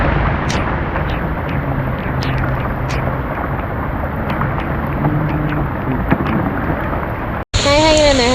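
Heavy rain pours steadily with a low rumble of thunder beneath, loud and close, before an abrupt cut to a brief different sound at the end.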